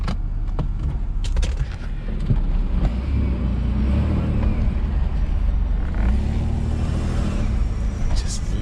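A UK right-hand-drive Chevrolet Blazer with a 4.3 V6 gives a loud, rumbling exhaust burble with deep low-end throb, heard from inside the cabin along with some faint rattles.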